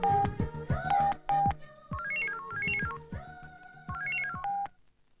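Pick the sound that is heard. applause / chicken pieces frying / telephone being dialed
telephone being dialed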